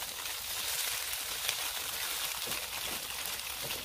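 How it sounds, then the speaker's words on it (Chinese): Tofu pan-fries in hot oil with ginger slices in a nonstick wok over medium-high heat, a steady, close, broadband sizzle with a faint crackle running evenly throughout and no talking. "将啲豆腐煎到金黄"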